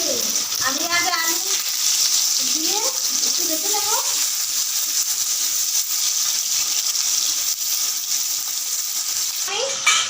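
Puti fish and brinjal fry in hot oil in a village-style kitchen, giving a steady, close, bright sizzle throughout, with a voice speaking now and then over it.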